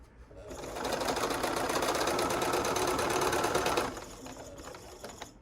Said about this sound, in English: I want to make sure that I'm sewing to the seam.